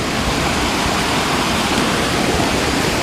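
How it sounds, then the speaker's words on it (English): Creek water flows steadily in a steep, rocky California stretch with waterfalls and deep pools, a dense, even rush that holds constant and fairly loud throughout, with no voices. "Oh yeah, there's the creek."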